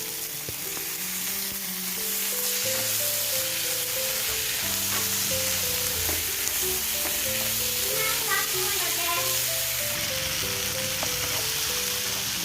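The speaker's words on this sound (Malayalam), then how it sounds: "ആ തക്കാളി നമുക്ക് അരിഞ്ഞത് ചേർത്ത് കൊടുക്കാം" Chopped tomatoes frying with onions in a pan for a drumstick masala curry, giving a loud, steady, continuous sizzle that holds evenly from start to finish.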